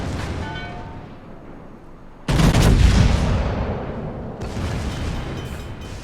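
Naval gunfire in a warship video game, with heavy booming salvos: a sharp, loud blast that rolls into sustained roaring fire, a second burst of shots a couple of seconds later, over a continuous rumbling battle din.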